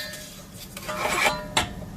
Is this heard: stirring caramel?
yes